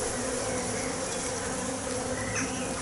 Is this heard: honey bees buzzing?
yes